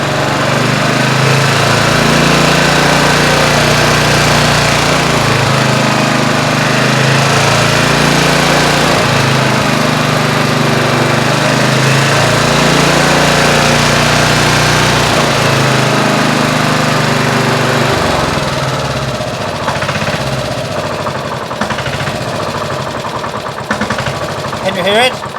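A vintage Honda HR214 lawn mower with a blown, oil-burning engine runs loudly and steadily on a rough, lumpy note, easing off somewhat near the end.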